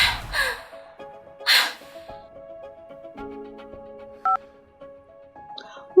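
Several short electronic telephone keypad tones beep as a number is dialed, set against a quiet, sustained musical backdrop.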